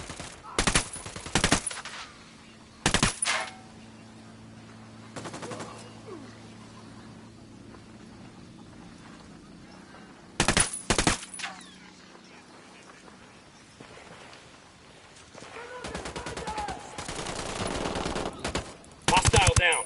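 Bursts of automatic gunfire in the tactical shooter game Ghost Recon Wildlands, loud short volleys separated by long quiet stretches, with a denser rattling stretch near the end.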